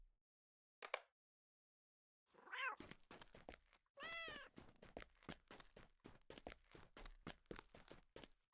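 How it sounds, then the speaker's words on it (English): A cat meows in the game Lord of the Rings Online, in the Kingdoms of Harad city, giving a short faint call, then a drawn-out meow followed by a second one, over soft rhythmic footsteps. "I heard the kitty cat."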